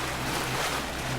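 Steady low engine drone of a sailboat motoring at sea in light wind with the mainsail up, a constant hum under broadband wind and water rush, no voices.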